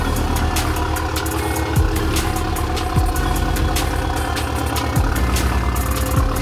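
An Audi car engine with major engine damage idles steadily while smoking, with a low, even rumble and faint rattles, close by and running alone without any voices.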